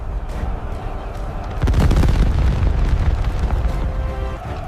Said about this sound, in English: The thunder of those giant cannons never stopped.